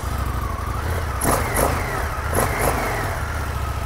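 An Indian motorcycle engine rumbles close and loud, with a few short throttle blips rising and falling over a steady idle as the ride begins.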